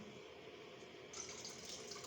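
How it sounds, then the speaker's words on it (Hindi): Water pours into a pot of hard, uncooked lentils (dal) in a home kitchen, a faint, steady splashing trickle that grows slightly brighter partway through. "दाल के अंदर पानी डाला है"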